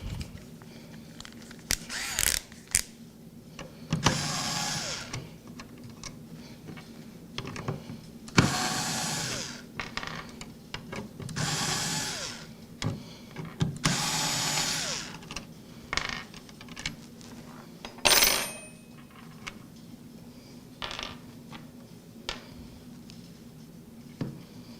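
A computer heatsink mounting mechanism is being removed, giving irregular plastic clicks, snaps and scraping bursts, close and fairly loud, with quiet gaps between them.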